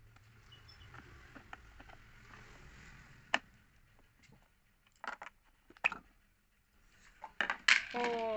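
A water pump motor's capacitor box being opened with a broken capacitor inside: close, scattered metallic clicks and taps, then a quick cluster of sharper clinks and rattles toward the end, over a low steady hum.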